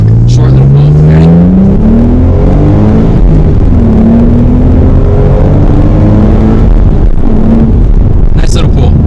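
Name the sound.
V6 Ford Mustang S550 accelerating in a short pull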